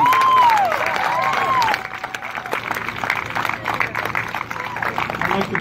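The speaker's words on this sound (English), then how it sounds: "Round of applause, please." A crowd at a Black Lives Matter march in South Plainfield, New Jersey claps and cheers outdoors, loud at first and then thinning into scattered applause, with a whistle-like tone sounding early on.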